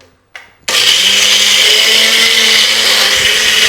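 After a short brief whirr, a mixer grinder kicks in and runs loud and steady, blending salt and water into a Maggi dish, with a constant roaring motor hum and no talk.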